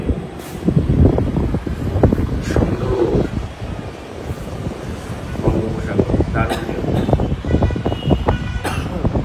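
Gusty wind on a hotel rooftop near the lighthouse in Puri buffets the microphone in uneven bursts, rising and falling, with a voice talking faintly underneath.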